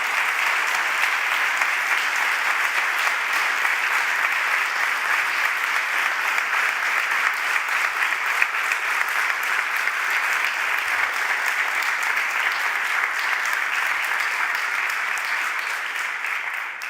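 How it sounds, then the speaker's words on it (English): Sustained applause from a large audience at a DesignEuropa 2023 award ceremony, steady dense clapping that holds at an even level and tapers slightly at the end. "That applause is for you."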